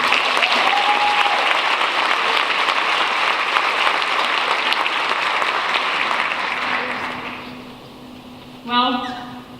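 A school audience at an 8th grade recognition ceremony applauds to welcome a student speaker, sustained clapping that fills the hall and then fades out, followed by a brief voice at the end.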